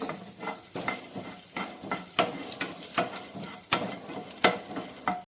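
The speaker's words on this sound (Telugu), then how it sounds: "శనగపప్పు మినపప్పు జీలకర్ర ఆవాలు ఎండుమిర్చి ఇవన్నీ మంచిగా ఫ్రై చేసుకుందాం కొంచెం కరివేపాకు కూడా వేద్దాం" Chana dal, urad dal, cumin, mustard seeds, dried red chillies and curry leaves tempering in hot oil, with rhythmic spatula strokes scraping the pan roughly twice a second over a steady sizzle.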